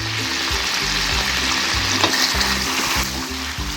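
Whole green chillies stirred into a white chicken karahi over low heat: a loud, continuous sizzle with repeated scraping strokes of the spoon against the pan, with no one talking.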